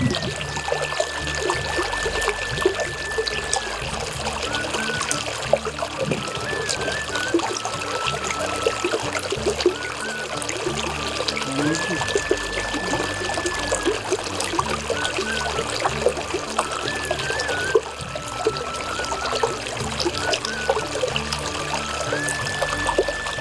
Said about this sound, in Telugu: Now look at this water.